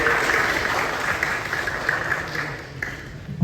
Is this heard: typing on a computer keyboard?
no